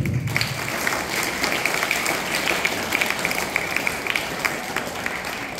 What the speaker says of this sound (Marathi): एवढ्या स्पीडी प्रतिसादाबद्दल अजून एकदा या सर्व टीमचं टाळ्या वाजवून स्वागत करतो.